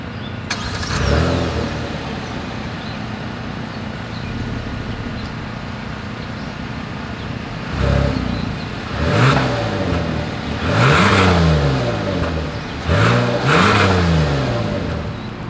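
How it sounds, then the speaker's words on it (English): 2022 Kia Telluride with dual satin chrome exhaust tips: an engine starts, settles to idle, then revs up several times in rising and falling sweeps, each rev loud and close with no talking. "As always, here is that exhaust clip."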